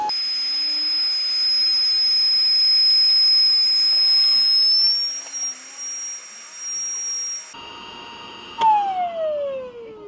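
Electric pump of an XPENG G9 sucking air out of a camping mattress, a loud steady whine with a high tonal note that cuts off midway, followed by softer rustling and a falling electronic tone.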